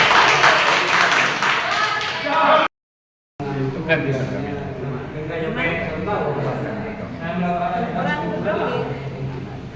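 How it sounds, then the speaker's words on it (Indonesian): An audience of teachers claps at a workshop in Sumenep, a dense patter of hands at moderate level that briefly cuts out, then continues mixed with voices talking. "Tepuk tangan dulu buat"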